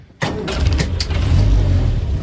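A Land Rover Series 2A 88in petrol soft top with a Weber carburetor cranks briefly and catches, then settles into a loud, steady close idle with no talk.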